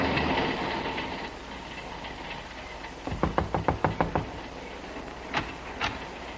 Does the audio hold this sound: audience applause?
no